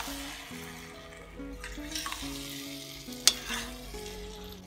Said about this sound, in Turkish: Şöyle 1-2 kez salça ile birlikte suyunu koymadan önce kavuracağım.